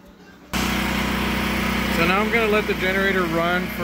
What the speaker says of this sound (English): now I'm gonna let the generator run for